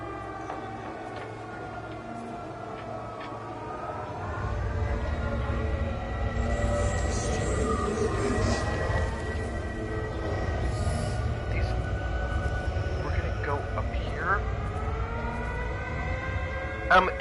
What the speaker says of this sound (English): Yeah, I hear that air raid siren.